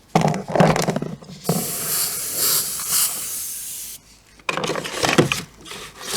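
An airbrush fed by a compressor sprays paint onto a 1/48 scale Timberwolf model in loud, close bursts of steady hiss, with brief pauses and a quieter gap between sprays.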